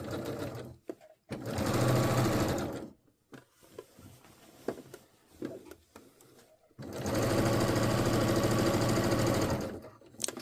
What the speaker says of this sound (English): stitching it at the machine